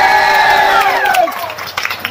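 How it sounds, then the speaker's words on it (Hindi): A crowd at a film promotion event claps and cheers loudly to welcome guests. The roar is steady and close, over a falling tonal sweep, and thins out near the end. "जोरदार ताली बजा के स्वागत करें"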